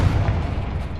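A fire spell is cast in Hogwarts Legacy and lands as a deep, booming blast, with a heavy low rumble that rolls on steadily through a one-second burst and no talk over it.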